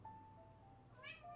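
A female house cat meows indoors, a single clear, drawn-out cry rising near the end over steady low background hum, fairly close.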